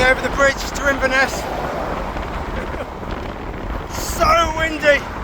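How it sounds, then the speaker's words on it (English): Strong wind buffets the microphone while cycling over the bridge to Inverness, a steady roaring rush with gusts swelling louder near the start and end, and a voice speaking briefly over it. "So windy."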